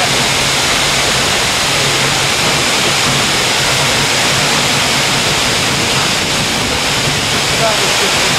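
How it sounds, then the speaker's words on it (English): A big waterfall in Seyðisfjörður, Iceland, pours with a loud, close, unbroken roar of rushing water that stays steady for several seconds. "we've got a big waterfall right over here, right behind me"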